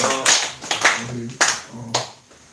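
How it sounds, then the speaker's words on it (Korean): Congregation at a church Sunday service clapping hands in greeting, a few short bursts of scattered handclaps separated by brief pauses, fairly close and moderately loud. "우리 박수로 한번 서로 인사 한번 하실까요?"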